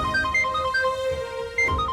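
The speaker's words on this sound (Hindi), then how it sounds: "आलिया का फोन आ रहा है" A phone rings with a short repeating electronic ringtone melody of clear, bright tones, steady and fairly loud, with no talking over it.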